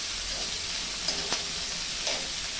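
Onion sautéing in a pan for misal pav: a steady, close sizzle with a few soft clicks of stirring, heard alone with no voices.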